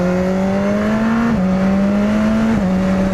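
A BMW S1000RR motorcycle accelerates hard in first gear, its loud, close engine whine rising in pitch with two quick dips as the throttle shifts.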